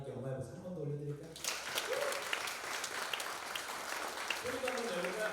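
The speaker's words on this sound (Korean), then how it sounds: "우리 하나님께 영광의 박수 한 번 더 올려드릴까요?" A church congregation at a youth winter retreat service breaks into loud, sustained applause after a voice speaks. The clapping fills the room for several seconds, then a voice returns near the end.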